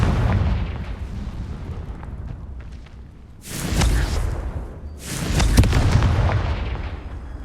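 The Confringo fire spell exploding in the Hogwarts Legacy video game, a rumbling blast followed by two sharp, loud booms with crackling tails, close and alone without speech.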